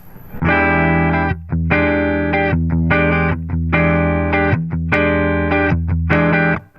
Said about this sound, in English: that's our bass tone coming out of a 65 Deluxe Fender